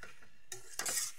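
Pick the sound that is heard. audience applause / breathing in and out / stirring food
stirring food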